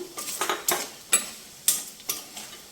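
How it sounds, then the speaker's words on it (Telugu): Shrimp fry in oil until crispy, with a soft sizzle under sharp metallic clinks and scrapes of a utensil against the pan coming in irregular bursts. "బాగా రోస్ట్ లాగా క్రిస్పీగా రొయ్యలు అయ్యే వరకు వేగాలి"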